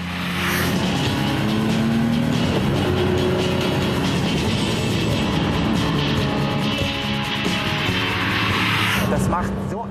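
A 160-horsepower six-cylinder sports car engine hums and revs steadily while driving, with a voice talking over it throughout.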